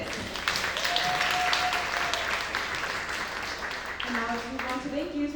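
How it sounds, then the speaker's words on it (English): An audience applauds candidates at a youth advocacy candidate forum, a steady wash of clapping from many hands that runs under a speaking voice and fades as talk takes over near the end. "give a big round of applause to our candidates"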